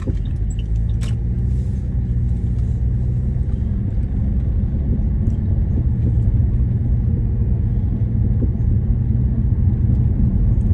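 A car drives on a UK road during practical driving practice, producing a steady low engine and road rumble that continues throughout at a fairly loud level.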